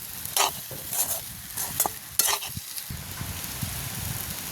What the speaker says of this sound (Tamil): நல்ல வடிவாக அப்படி உப்புத்தூள் எல்லாத்துலேயும் சேரக்கூடிய மாதிரி நல்ல வடிவாக கிண்டி விடுவோம்.